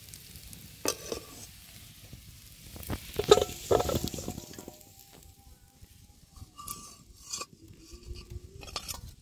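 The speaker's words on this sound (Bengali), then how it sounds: "কচুটা ভালো করে ভেজে নিয়েছি" Taro being fried in a pan with turmeric and salt for a village fish curry, giving a quiet sizzle with scattered stirring and scraping clatters, close and fairly soft, with no talking.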